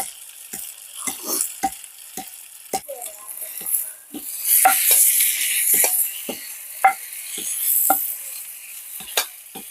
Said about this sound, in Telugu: ఇలా వేయించుకోవాలి ఫ్రెండ్స్.